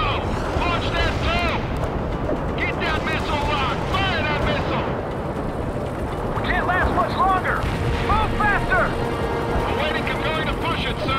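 Missile launches and explosions in the World in Conflict real-time strategy game, with a Bradley and armored transports in the fight. Steady rumbling blasts and artillery-like booms run throughout, while voices chatter over the combat.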